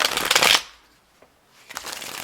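A deck of tarot cards is riffled in a brisk, close burst, then a short quiet pause with a faint tap, and a second shuffle begins.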